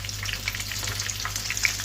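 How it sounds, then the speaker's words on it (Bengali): Chicken frying in hot oil near the end of cooking gives a continuous close sizzle with scattered small pops and crackles, and no one speaks. "ভাজা শেষ পর্যায়ে এখন আমি নামিয়ে নেব।"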